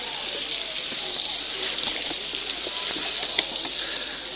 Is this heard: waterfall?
yes